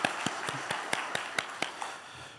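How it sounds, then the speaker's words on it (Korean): Rhythmic claps from a church congregation applauding the choir, sharp and evenly spaced at a brisk pace, moderately faint, fading toward the end. "우리 수고한 찬양대 위에 격려의 박수 한번 하겠습니다."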